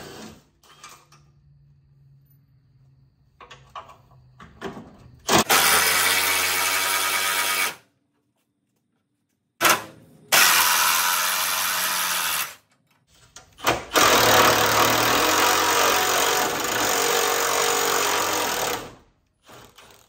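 A power tool hammers loose four 17mm bolts on a Jeep ZJ in three loud, close bursts of rattling impact lasting a few seconds each, separated by brief silent pauses.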